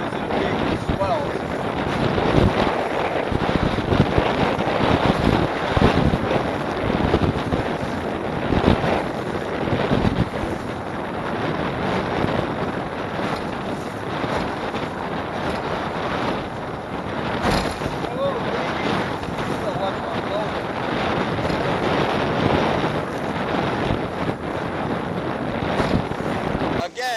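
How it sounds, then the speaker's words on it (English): Strong wind buffets a small boat on Lake Michigan with big swells, producing a loud continuous roar of gusts and microphone wind noise mixed with water sounds throughout. "And we got a windy day today."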